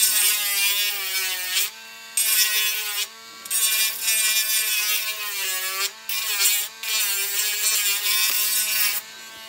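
A high-pitched rotary tool whines continuously while grinding a plastic model aircraft part, pausing briefly several times before starting up again, close and loud.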